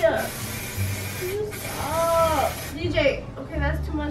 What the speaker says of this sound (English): Why would you spray that while he's right here?